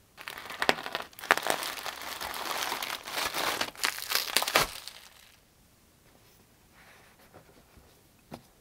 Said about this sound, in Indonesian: Langsung saja kita mulai unboxing.